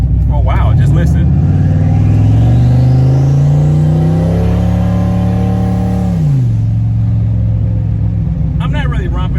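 Turbocharged SN95 Ford Mustang with a glowing header, heard from inside while driving: the engine revs climb steadily under acceleration, then drop off sharply to a lower steady drone. A voice briefly speaks at the start and end.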